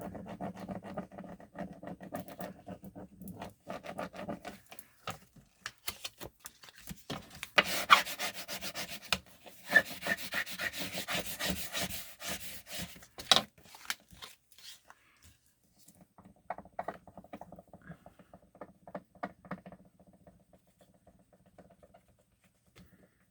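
Burnishing down a vinyl logo decal, with a tool rubbing and scraping in bursts of steady strokes that grow denser and louder midway, then lighter, intermittent rubbing toward the end, close up and alone.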